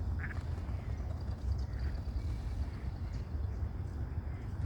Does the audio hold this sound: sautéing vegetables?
no